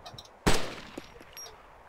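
A single loud, sharp crack from an AS50 sniper rifle in the survival game DayZ, followed by a short ringing decay and a few faint ticks afterward.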